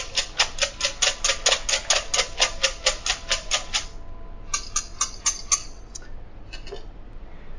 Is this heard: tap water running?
no